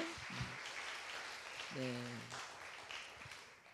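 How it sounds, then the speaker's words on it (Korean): A Korean youth church congregation gives a Sunday service round of applause, a steady wash of many hands clapping throughout, with a short spoken reply rising briefly over it. "우리 다시 한번 우리 모두 하나님께 이 모든 은혜를 주신 감사하며 영광의 박수 올려드릴까요?"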